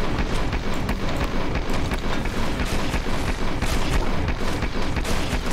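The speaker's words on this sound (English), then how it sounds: "We're gonna take this because it's a freaking light machine gun." A light machine gun firing in the video game Maximum Action, loud and close, its rapid shots blending into a continuous heavy roar that hardly lets up.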